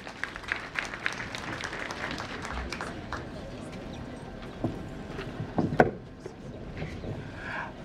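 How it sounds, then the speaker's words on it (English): Steady clapping from an audience at a girls' high school alumni association network launch, with scattered sharper claps and brief voices rising through it near the end. "Can we give her another round of applause?"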